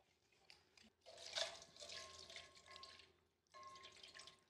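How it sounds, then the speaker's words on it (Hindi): Water from a tap splashes over a freshly scrubbed copper pot during rinsing, two bursts of running, splattering water separated by a brief pause, close and fairly quiet. "इसको पानी से और साफ कर लेते हैं।"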